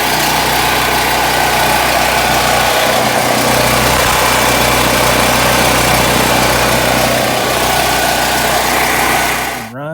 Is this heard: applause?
no